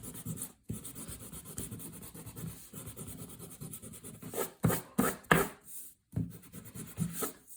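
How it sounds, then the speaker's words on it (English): Eraser rubbing across drawing paper to remove light pencil guidelines beneath a dried ink coffee table rendering, a steady close scrubbing texture with short pauses and a few louder strokes near the end. "I'm going to quickly erase."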